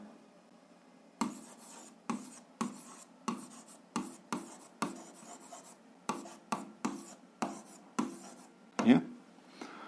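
Handwriting strokes of a pen or chalk as a formula is written out, a steady series of short scratchy marks in quick rhythm, close and clear with no talk over them.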